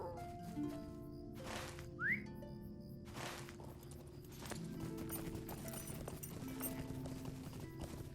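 Horse hooves clip-clop at a steady trot in the Lord of the Rings Online game, a continuous rhythmic beat under a brief whistle and faint ambient music.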